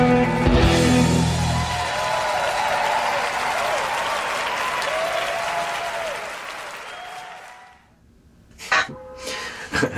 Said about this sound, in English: you see the last second there where everybody's applauding